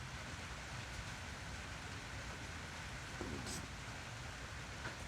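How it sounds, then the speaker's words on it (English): Steady rain falls onto a carport roof, a dense, even hiss that continues unbroken throughout with no talking and only a small clink partway through. "on days like this where it's raining"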